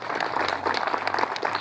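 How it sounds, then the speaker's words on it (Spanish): A crowd at an outdoor community food-basket handout in Facatativá breaks into a dense, loud burst of clapping that holds steady for the short stretch. "Entonces, un fuerte aplauso para todos."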